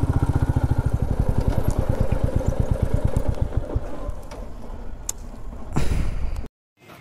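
Motorcycles pull in and park near a large Jain temple in Karnataka, their engines chugging with a steady, close, pulsing rhythm that fades into a clatter before cutting off to silence.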